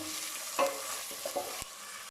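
Onions with ginger, garlic and green chilli paste fry in a pan for methi matar malai, a soft sizzle with a few spatula stirs and scrapes, brief and fairly quiet.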